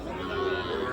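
Red bull calves at a cattle market give a short, close, low moo.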